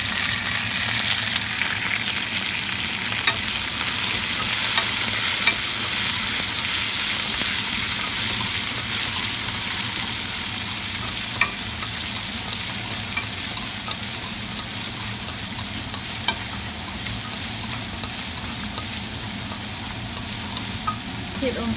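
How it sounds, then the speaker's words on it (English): Beans and bacon stir-fried in a wok give a steady, continuous sizzle with soft scraping and tossing throughout, close and moderately loud, with no talking. "Keep on stir fry it, don't stop, because that way you can make the vegetable taste a lot better."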